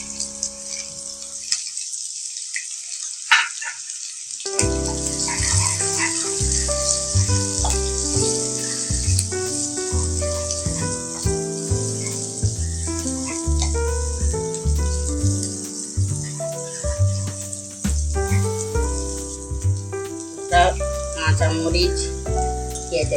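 Chopped onions go into hot oil for a Bengali coconut prawn curry. After a quiet start, a steady, close sizzle takes over and carries on to the end.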